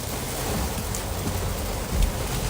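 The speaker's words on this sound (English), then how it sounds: "It's raining." Steady rain falls outdoors, a dense even hiss without voices, with a brief heavier swell near the end.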